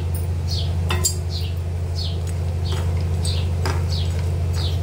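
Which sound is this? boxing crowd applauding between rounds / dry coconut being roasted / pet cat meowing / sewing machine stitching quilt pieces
dry coconut being roasted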